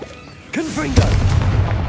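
A Confringo spell explosion in the video game Hogwarts Legacy, a short whooshing cast followed by a booming blast that rumbles on to the end, with a voice briefly heard as it starts.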